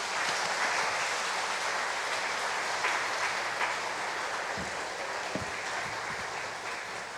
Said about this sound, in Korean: 이 시간 우리 같이 박수로 우리 목사님 환영하도록 하겠습니다.